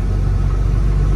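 A 2007 Dodge Ram pickup's engine runs at a steady idle, a loud, close, low rumble that holds even throughout with no voices.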